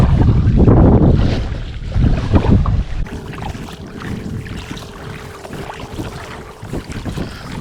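Gusty wind buffets the microphone during kayak fishing on open water, loud rumbling at first and then easing into a lighter, steady rush with faint water and boat sounds. No one speaks.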